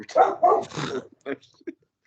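A dog barks indoors in a quick, loud burst of about three barks close by, followed by two shorter, fainter yips before falling silent.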